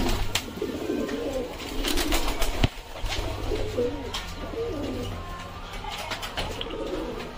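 Pigeons, both male and female, coo in a loft in soft, throaty, overlapping rolling calls that continue steadily throughout, with faint background noise and a brief knock partway through.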